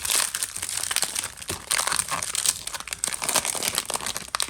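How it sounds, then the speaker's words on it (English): Foil wrappers on 2006-07 Topps basketball trading card packs being ripped open, a close, loud crinkling and tearing rustle that goes on continuously in short bursts for a few seconds, with no voices. "we'll give a little bit more of a slice in these to make it a little bit easier to rip them off"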